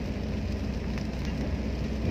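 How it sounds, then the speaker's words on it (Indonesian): Rain drumming on a car while driving, a soft, steady hiss and patter with a low road rumble underneath, continuous and fairly faint. "Hujan lagi."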